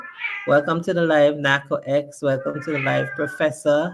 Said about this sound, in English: every time you hear that song, that's my cat